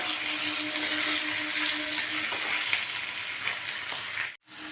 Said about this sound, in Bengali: দেখুন বন্ধুরা এটা কিন্তু বেশ ভালো ভাজা ভাজা হয়ে গেছে